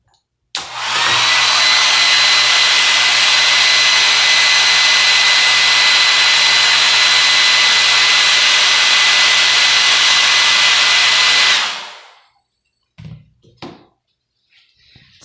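A hair dryer switches on and blows with a loud, steady roaring whoosh for about eleven seconds, then cuts off, followed by a few quiet knocks.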